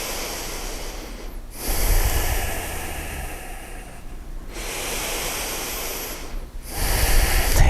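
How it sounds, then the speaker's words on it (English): Deep yoga breaths drawn in and let out slowly, a long rushing airflow cycling about three times, close and fairly loud with no talking. "Take one more complete breath in and out, going deep as you can"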